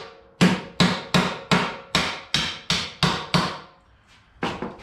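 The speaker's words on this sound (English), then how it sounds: "Whack it with a hammer." Hammer blows on a motorcycle suspension part while upgrading the suspension of a custom Honda XR200R: about ten sharp, loud metallic strikes in a steady rhythm, then two quicker hits after a short pause, with no talking.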